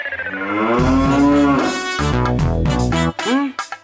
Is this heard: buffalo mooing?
yes